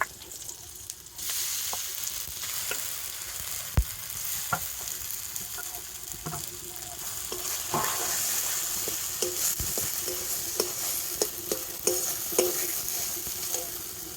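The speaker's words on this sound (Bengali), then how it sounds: "তো তেলের সাথে সব কিছু একটু ভেজে নিয়ে এবার আমি গ্রেট করে রাখা আলুটা দিয়ে দেব।" Grated potato fries in oil with chillies. A sizzle swells up after a brief quiet start and runs steadily, with clicks and scrapes from stirring spread throughout and no voices.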